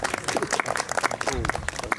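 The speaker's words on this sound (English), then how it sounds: "Definitely deserve a round of applause" A crowd applauds a graduating Samuel Merritt University nurse practitioner class of 2021, with steady dense clapping and a voice speaking over it.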